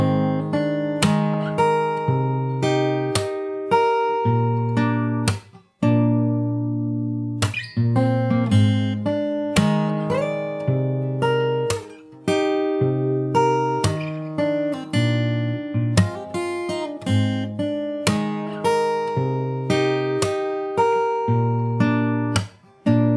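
Fingerstyle guitar plays the verse of a song, picked notes and chords with percussive slaps in a steady, close, clear rhythm, a few brief pauses between phrases, no voices.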